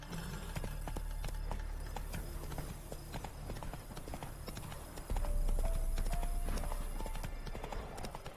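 Roach, the horse in the video game The Witcher 3, gallops along with steady, loud clip-clop hoofbeats that run the whole way through over a dense game soundscape. The hoofbeats swell louder partway through.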